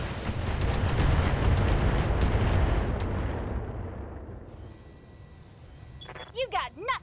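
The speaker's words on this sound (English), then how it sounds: "I might be able to get a thumper cannon to hit all three of these" A Thumper artillery cannon in a MechWarrior game fires with a heavy, rumbling boom that rolls on and slowly fades over several seconds, followed by a few short electronic radio chirps near the end.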